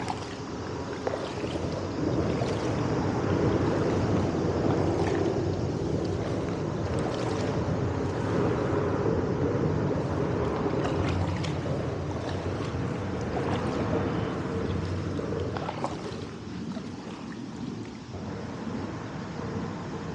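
A kayak glides under the Fletcher Avenue bridge near Tampa, Florida, with a steady wash of water and wind and faint splashes and knocks from the paddle, close and continuous without speech.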